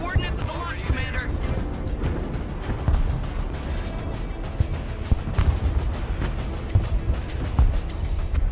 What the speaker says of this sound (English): We're getting slammed by ballistic missiles.